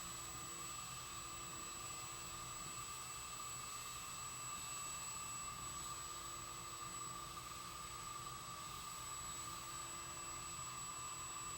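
A Clipper Vac vacuum dog clipper runs continuously as it sucks up longer dog hair while grooming, giving a steady motor whine and airy suction hum, faint and unchanging throughout.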